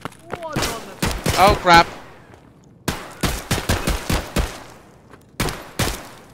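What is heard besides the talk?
gunfire in Escape from Tarkov video game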